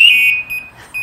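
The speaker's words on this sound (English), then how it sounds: "If something happens to Caden, he can push a button on his chest there to set off an alarm" A firefighter's chest-mounted personal distress alarm sounds close and loud, a piercing electronic tone pulsing in short repeated beeps.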